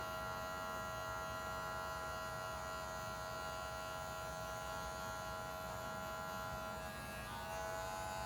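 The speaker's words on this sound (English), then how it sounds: "while I have this clipper in my hand, I'm just gonna taper this a little bit to give it like a nice finish." An electric hair clipper tapers a beard and sideburns near the ear, giving off a steady, loud, close-up buzz with a constant pitch and no pauses from start to finish.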